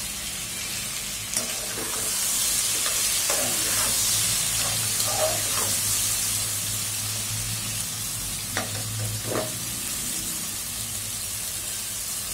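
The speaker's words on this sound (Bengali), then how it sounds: "তো এখন পটলগুলো দিয়ে দিচ্ছি।" Pointed gourd fries in hot oil in a pan with a steady close sizzle, punctuated by scattered clicks and utensil taps from stirring, no voices present.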